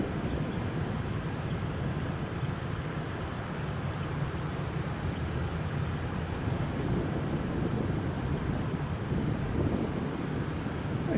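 A jet airliner taxiing toward runway 18 left for takeoff at Austin-Bergstrom International Airport, a steady distant engine rumble and whine mixed with wind noise, continuous and even, with no talk.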